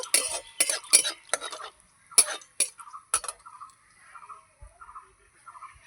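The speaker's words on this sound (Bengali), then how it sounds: "এই যে কালো জিরে নাড়িয়েই আমি পেঁয়াজটা দিয়ে দেব" Black cumin seeds tempering in hot oil, stirred with a spoon in a pan for a spicy tengra fish curry. A run of quick, distinct scraping strokes is followed by quieter, slower stirring.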